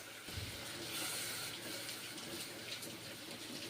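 Water pours into a pan of cooked spices for an egg curry with poppy seeds, a soft, steady rushing splash that continues evenly throughout at low volume.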